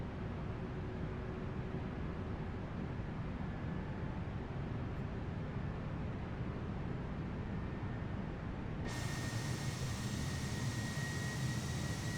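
Airliner jet engines at climb thrust in Microsoft Flight Simulator 2020, on an Alaska flight from San Diego toward San Francisco, roar as a steady, broad, even rush that brightens with added high-pitched hiss near the end.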